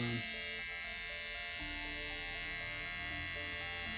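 A steady electric buzz of Stylecraft hair clippers running close up while trimming arm hair, its tone shifting slightly as it works, with no voices.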